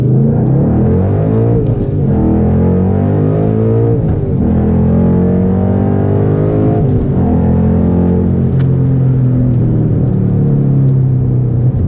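A 2012 Ford Mustang Boss 302's V8 engine roars loud and close, revving up through the gears with deep rumbling pulls and brief dips at each shift.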